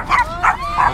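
Dogs on a street bark three times in quick succession, loud and fairly close, with short yipping tones and little else around them.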